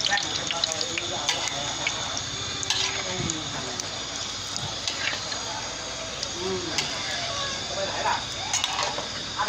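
Banana chips deep fry in a pan of hot oil over a strong flame, a continuous bubbling sizzle with scattered crackles and occasional stirring clatter, while a person talks nearby.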